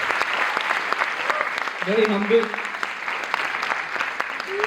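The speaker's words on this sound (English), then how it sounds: "You can understand from the applause" Audience applause at a role-model conversation event, a steady wash of clapping throughout with a voice speaking briefly over it.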